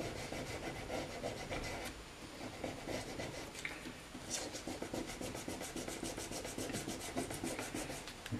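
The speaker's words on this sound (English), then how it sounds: "Polish up is the 2500 grit, which just suddenly makes it shine" Guitar frets on a vintage Sakai/Audition electric guitar are polished with 2500 grit abrasive, producing rapid, close back-and-forth rubbing strokes in a steady rhythm with no talk.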